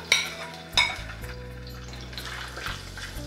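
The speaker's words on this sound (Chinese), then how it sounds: "锅烧热，加点油，爆香一下葱姜蒜，" Scallion, ginger, garlic and lantern peppers hitting hot oil in a large wok, with two sharp metallic clanks of utensils and a continuous crackling sizzle that carries on steadily, no voices.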